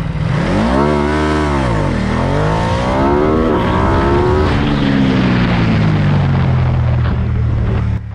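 A Ducati Diavel 1260 S motorcycle accelerates hard in a launch control run, its loud engine note climbing steeply through several quick gear changes before settling into a sustained high-speed drone, with no talking.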